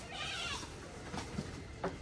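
Baby goats bleat during deworming while syringes of medicine are prepared, with a few short, close cries over a steady background.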